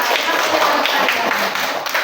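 A classroom of students claps for a classmate named Nadia, a dense, steady burst of close hand claps lasting about two seconds.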